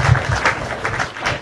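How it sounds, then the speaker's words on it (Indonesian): Brief, muffled clapping rises from a small group at an evening online gathering, uneven and lasting just over a second. "Tepuk tangan dulu."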